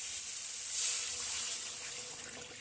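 Hot water is poured into a pan of frying fish curry masala on a stove, giving a continuous bright hiss and sizzle with a brief surge near the start, with no talking.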